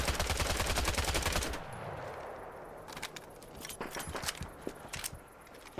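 Gunfire in the Vietnam-era shooter game Hell Let Loose: Vietnam opens with a loud rapid automatic burst, then gives way to scattered single shots and distant cracks over quieter battlefield ambience.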